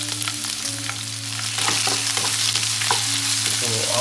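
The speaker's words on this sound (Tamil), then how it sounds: "ஸோ ஆனியனை வதக்குறோம்" Onions sauté in hot oil with mustard seeds, curry leaves and fennel for a Nagercoil-style egg gravy, a loud close crackling sizzle broken by repeated scraping stirs with no talking.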